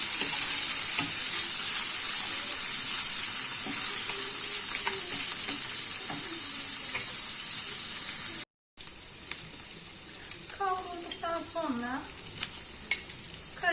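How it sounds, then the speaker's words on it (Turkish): Boiled chicken breasts are sautéed with other ingredients in a pan, a steady hiss of frying with light scraping stirs, briefly cut off, then resuming. Someone talks near the end. "Birkaç dakika kadar tüm malzemelerimi tekrardan kavuruyorum."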